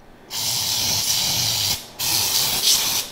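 Cooking spray hisses onto a parchment-lined loaf pan in two close, loud bursts, the first long and steady, the second after a brief pause, with no talking.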